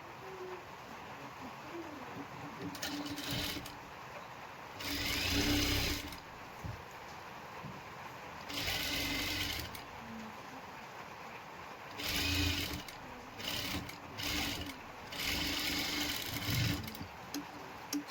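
A sewing machine stitching a princess blouse runs in several short bursts of fast rhythmic whirring, each a few seconds long, with quiet pauses between them, close and moderately loud.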